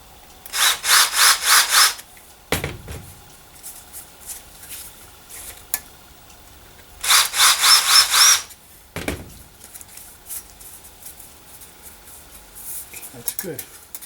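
Two short bursts of a hand tool chamfering a freshly drilled hole in a Torqueflite 727 transmission part, each lasting about a second or two, with a few knocks and clunks of the part being handled in between.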